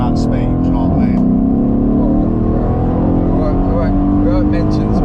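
A Stage 2 tuned Mercedes E63S AMG with 1100 Nm of torque pulls hard under acceleration, its loud engine drone rising steadily over five seconds from inside the cabin, with a voice talking over it.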